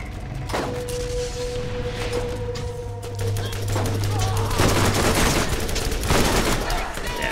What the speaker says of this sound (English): Let's try this machine gun.